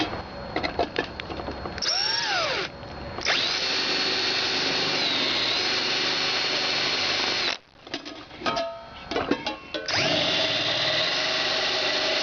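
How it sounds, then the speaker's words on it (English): A power drill boring a hole for a bolt during an oven build, long steady whining runs of the motor broken by brief stops and restarts, loud and close with no talking. "I'm going to find the right size drill bit for it. We're going to zap a hole in there"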